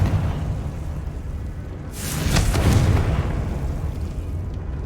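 A Confringo blasting spell from Hogwarts Legacy erupts in a single loud, rushing explosion that swells midway and trails off into a low rumble, with no speech.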